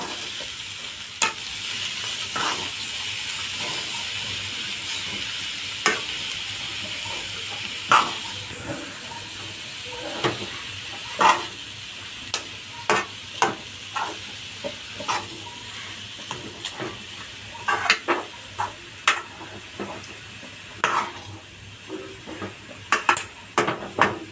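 Beetroot and grated coconut thoran for a Kerala-style dish with dried beans is stirred in a sizzling pan, a steady hiss carrying repeated scraping clicks of the spoon that grow denser toward the end.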